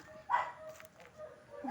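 A bulldog at an animal sanctuary in Pililla, Rizal gives a short bark and some whimpering yips, heard fairly distant beneath faint background chatter and outdoor ambience.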